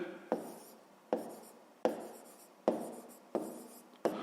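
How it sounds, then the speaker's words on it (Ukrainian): Pen writing an answer by hand on paper, a quiet scratching of six separate short strokes spaced at a steady rhythm, each starting sharply and trailing off, with no voices. "Ну і так і записуємо."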